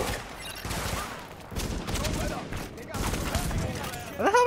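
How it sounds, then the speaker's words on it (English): Gunfire trades back and forth in a firefight in The Division, dense bursts and shots running throughout under game effects, with a voice chiming in near the end. "Where the hell are we getting shot from?"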